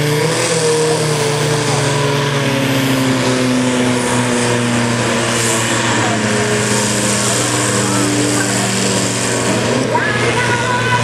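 An old farm machine's engine with a sticking fuel pump runs steadily but roughly at an outdoor show in Aagtekerke, loud and continuous with a droning hum throughout.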